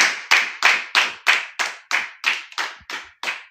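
A congregation at a church worship service claps together in a steady, rhythmic beat, about a dozen even claps, loud and close, with no talking.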